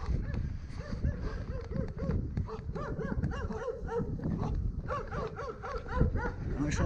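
Guard dogs bark repeatedly at a colliery, several dogs yapping and barking in dense overlapping bursts at moderate distance, with some whimpering and voices underneath.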